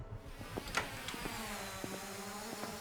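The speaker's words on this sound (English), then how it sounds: "And you hear that buzzing? That's the drone delivery." A delivery drone in the Animal Shelter 2 video game gives off a steady, thin insect-like buzz with a few brief clicks layered over it. It runs continuously at a moderate, fairly close level, and no one speaks.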